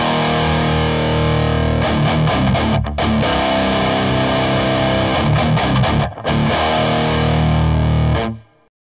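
Heavily distorted electric guitar chords ring out loud and sustained, changing a few times with brief breaks before cutting off at the end.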